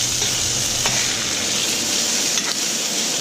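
Food sizzles steadily in a hot pan while a utensil stirs it, giving a dense, continuous frying hiss with a few scraping clicks, close and fairly loud with no voices.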